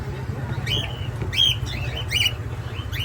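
Ino pet birds, a breeder pair of red-eyed Inos, chirp in short bright bursts of three or four calls over a steady low background hum, fairly close.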